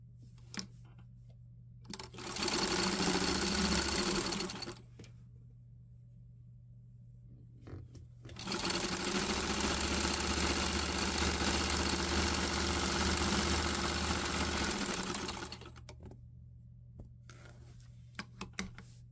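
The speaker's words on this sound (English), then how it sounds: "we're just going to sew right down this edge" A sewing machine stitches down the edge of a cotton flannel heat pad filled with corn, running in two steady, close bursts of whirring mechanical hum separated by quiet pauses, with a few light clicks afterward.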